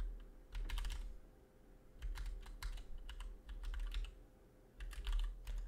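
Typing on a computer keyboard while filling in an online sign-up form, bursts of quick close key clicks separated by short pauses, alone with a low steady hum underneath.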